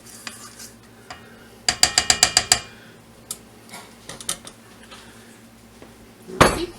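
Spatula or spoon scraping and knocking around a mixing bowl holding a spiced pumpkin and egg batter, with a quick run of sharp rhythmic clinks followed by scattered scrapes and taps.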